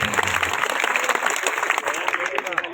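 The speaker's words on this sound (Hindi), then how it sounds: "एक बार जोरदार तालियां भाई" Audience applauding a poetry recitation at a gathering, dense continuous clapping heard from a distance, steady and even, with a faint voice mixed underneath toward the end.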